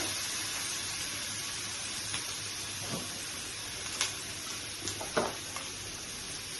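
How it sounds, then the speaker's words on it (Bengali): Garlic paste and torn green chillies fry in a spice paste, giving a soft, steady hiss with a few faint clicks of stirring, quiet and close with no talk. "এভাবে মশলাটাকে ভেজে নিচ্ছি।"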